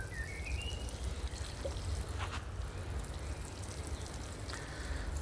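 Water poured onto tomato plants in a garden bed in mid-spring, a steady broadband splashing and trickling pour that runs the whole time with a soft hiss, close by and with no talking.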